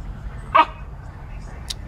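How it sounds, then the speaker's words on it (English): A dog gives a single short bark while standing near someone's feet outdoors, with a bird flying nearby, set against quiet background noise and a faint second yip. "They're standing right here by my feet barking."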